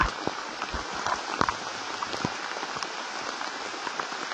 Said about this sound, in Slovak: Takže už sa spustil šialený lejak.